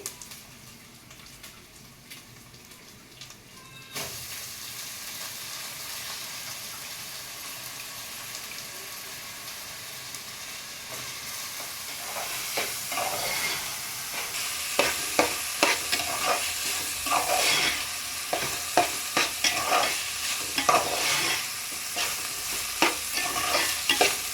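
Soaked rice is tipped into a hot pan of garlic for coconut rice and stirred, starting quiet, then swelling into loud, close sizzling with repeated scraping of the spoon.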